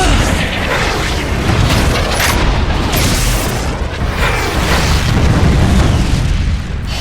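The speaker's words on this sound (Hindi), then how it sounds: "ये लो, माइक्रो मिसाइल आक्रमण।" A volley of cartoon micro missiles bursting in an animated car-race battle, with dense, continuous booms and rumbling blasts rolling one into another at steady loudness for several seconds.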